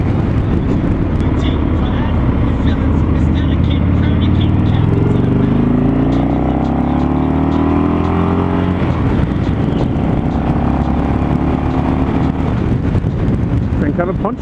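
A 2017 Harley-Davidson Low Rider motorcycle on a test ride, its engine droning loudly with rising and falling harmonic sweeps as it accelerates and shifts, buffeted by heavy wind rush throughout.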